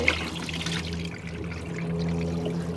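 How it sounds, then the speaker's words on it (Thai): Rinse water poured out of a container after washing rice for cooking, a steady close trickle and splash lasting a few seconds with no talk. "ก็เทน้ำทิ้ง"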